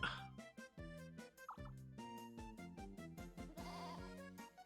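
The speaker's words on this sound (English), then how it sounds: "We are shearing sheep." Cartoon sheep bleat during a sheep-shearing minigame in the video game Mario Party 7, short bleats sounding over loud, bouncy, steady-beat game music.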